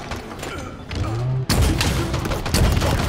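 Rocket launcher fire and explosions in the video game Halo Infinite: a low rumbling blast, a sharp cut, then heavy booming impacts and gunfire filling the short clip loudly.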